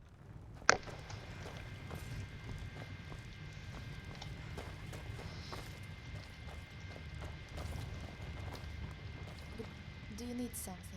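Horse hooves clip-clop at a steady riding pace on a road in Skyrim's Falskaar DLC, a continuous rhythmic patter at moderate volume with one sharp click near the start.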